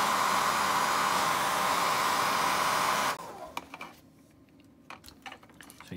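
A heat gun blows hot air onto a carbon fibre vinyl decal during full-body car wrapping: a loud, steady rushing hiss for about three seconds that cuts off abruptly, leaving faint handling taps and clicks nearby.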